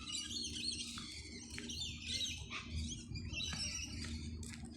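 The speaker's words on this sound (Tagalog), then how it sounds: "May ibon doon." Faint bird chirps and calls come and go at a distance over a low background hum, in Central Garden Park, Merrylands, Sydney.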